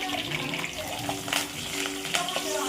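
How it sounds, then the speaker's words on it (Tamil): Onions and curry leaves frying in hot oil as the tempering for a goat trotter paya: a steady, close hiss and crackle with a few brief spattering pops, a voice murmuring faintly in the background. "ஆனியனும் கருவேப்பிலையும் சேர்த்து நல்லா வதக்கிக்கலாங்க."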